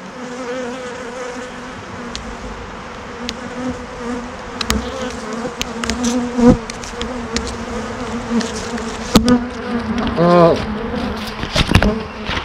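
Honey bees buzz loudly and continuously around an open hive during a winter inspection, a dense close drone with individual bees whizzing past, while faint handling noises sound underneath.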